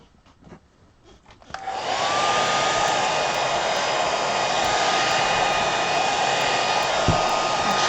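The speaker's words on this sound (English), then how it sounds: "now let me dry this with a hair dryer, not a heat gun." A hair dryer switches on after a couple of seconds of quiet handling noise, then blows at a loud, steady whine close by.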